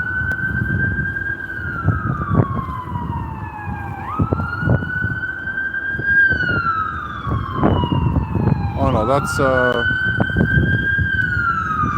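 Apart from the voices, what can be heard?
EMS vehicle siren on Yonge Street, Toronto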